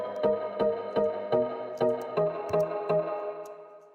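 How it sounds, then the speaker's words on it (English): Bright, unprocessed synth plays a steady run of evenly spaced notes, each with a sharp attack and short decay, moderately loud and alone with no voices. "I just introduced a different synth, which so without processing, it sounds like this. It's much brighter."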